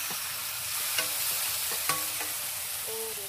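Onions frying in oil hiss in a constant close sizzle, broken by a couple of brief utensil taps and faint tonal clinks, with no voices.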